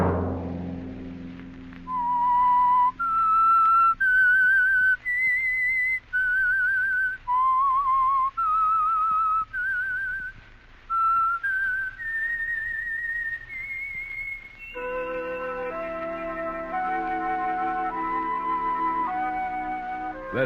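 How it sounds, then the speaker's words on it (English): A lone whistled melody, the theme of the 1950s radio mystery show The Whistler, a clear pure-toned tune of held notes that shifts into a soft orchestral passage partway through. "Let that whistle be your signal for the Signal Oil program, The Whistler"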